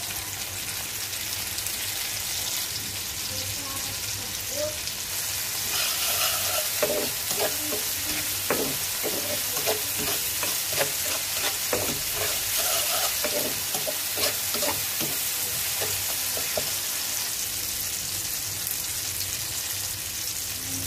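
Onions and green chillies fry in a pan with a continuous close crackling sizzle, and stirring scrapes and taps grow busier midway through; nobody talks.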